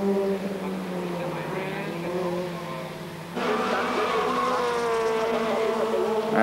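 Peugeot and Opel Group N touring cars race around the Salzburgring in 1991, engines droning at a distance with rising and falling whines as cars pass, a second car's note swelling in midway.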